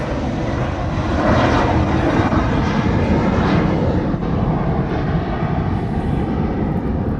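A C-17 military transport aircraft departs with a loud, continuous engine roar that holds steady and fills the whole stretch from a fair distance.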